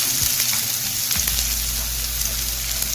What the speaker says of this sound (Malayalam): ഒരു പാൻ അടുപ്പിൽ വെച്ച് എണ്ണ ഒഴിച്ച് ചൂടാവുമ്പോൾ അതിലേക്ക് അരിഞ്ഞു വെച്ചിരിക്കുന്ന സവാള ഇട്ടെടുക്കാം